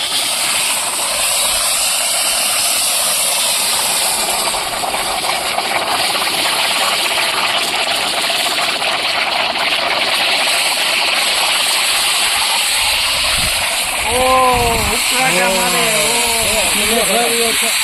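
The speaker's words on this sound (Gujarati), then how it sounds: "તો તેલમાં કોલગેટ નાખવા જઈ રહ્યા છીએ" Colgate toothpaste and shampoo dropped into hot cooking oil give a loud, steady hiss and sizzle, with bubbling bursts late on and a voice talking over it.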